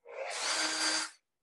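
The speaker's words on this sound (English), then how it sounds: "a few turns of the drill" A power drill turns a bit into a wooden knife handle in one short, steady, raspy whir lasting about a second, close up, with no talking.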